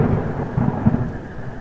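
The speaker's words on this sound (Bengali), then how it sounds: "এই যা বৃষ্টি শুরু হয়েছে" Heavy rain hisses continuously with a deep rumble of thunder rolling through, loud and close, in a cartoon ghost-story scene at night.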